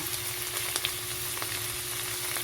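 Chicken and mushroom stir fry sizzling steadily in a pan, a close, even frying hiss with a few small crackles and pops throughout, no voices.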